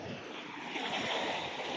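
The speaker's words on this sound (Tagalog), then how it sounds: "masama ang panahon. Malakas ang hangin." Strong wind roars steadily during stormy weather in Bicol, Philippines, with a broad rushing noise that swells slightly toward the end.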